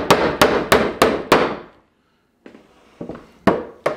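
A hammer drives a nail into a wooden deck planter: five sharp, evenly spaced blows in quick succession, a pause, then a few lighter taps and two more solid strikes, close and loud.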